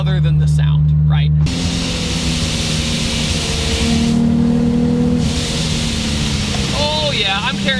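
A supercharged Infiniti G37 with 560 horsepower accelerating hard on a wooded road, steady engine drone with a rising supercharger whine and wind roar, loud and close, with a brief voice at the start.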